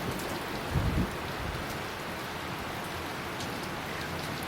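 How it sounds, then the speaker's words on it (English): Monsoon rain falls on leaves and ground around a lush forest resort, a dense, even hiss of raindrops with a brief low rumble early on. "The sound of the raindrops falling on the leaves"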